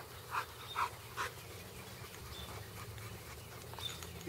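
A large dog in a yard gives a few quick, breathy pants or huffs in the first second and a half, then goes quieter against steady outdoor background noise.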